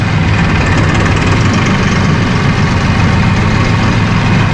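A 2017 Mahindra 5570 utility tractor with a 70 hp engine runs at a loud, steady drone, close by and unbroken throughout, with no voices.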